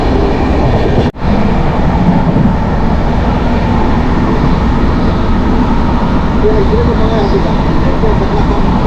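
Patna-Howrah Jan Shatabdi Express running, a loud, continuous rumble and rattle heard from inside the coach, with one brief dip in noise, near hilly country approaching Jasidih Junction.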